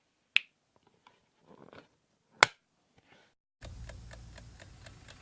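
Two crisp finger snaps ring out alone a couple of seconds apart, each short and clear against near silence, and a steady rhythmic ticking starts up afterwards.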